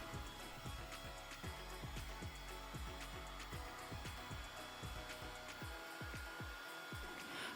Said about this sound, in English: So take a heat gun, heat it up to 650 temperature and aim to the pipe.